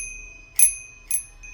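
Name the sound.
rusty bell hanging on a gate being rung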